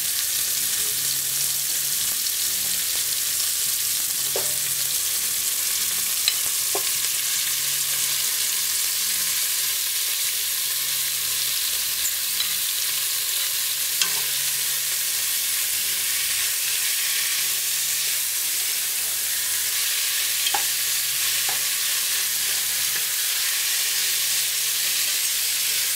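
Strips of beef fry in a pot for Jamaican stewed peppered steak, giving a steady loud sizzle and hiss throughout with occasional faint clinks of stirring, and no voices.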